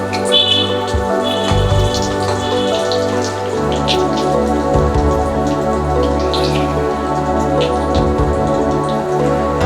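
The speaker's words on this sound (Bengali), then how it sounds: "একটু তেল বেশি দিয়ে ফ্রাই করলে ভালো" Chicken nuggets deep-frying in plenty of oil give a steady, dense crackle and spatter, loud and close with a continuous fizzing texture and no talk.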